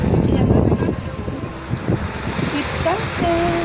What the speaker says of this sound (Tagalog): Ang lakas-lakas kasi guys ng hampas ng alon oh.